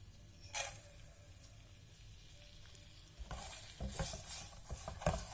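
Sugar melts in a pan for a dark caramel syrup, first as a quiet simmer with one brief clink. Louder stirring scrapes and a soft bubbling sizzle follow in the second half.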